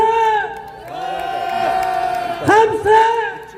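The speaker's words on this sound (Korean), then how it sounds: "같이 10초간 응원의 함성" A crowd at an outdoor political rally outside former president Park Geun-hye's residence in Dalseo, Daegu, cheers and shouts together, a loud sustained roar of many voices with whoops rising near the end.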